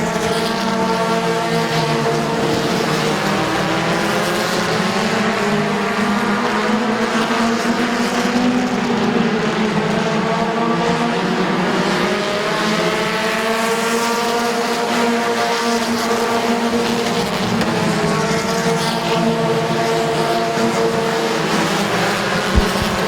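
Race cars at Midvale Speedway roar continuously for over twenty seconds, engines droning and rising and falling in pitch as they battle side by side, loud and steady with no talk.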